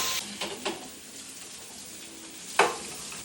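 Chicken frying in a pan with curry leaves, a steady close sizzle with a few sharp crackling bursts and a loud pop near the end, no talk.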